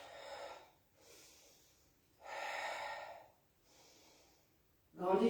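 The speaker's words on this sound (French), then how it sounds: "Et tu souffles." Breathing during a Pilates exercise: alternating slow, soft inhales and exhales, quiet and close, each lasting about a second, ending in a louder, sharper breath out.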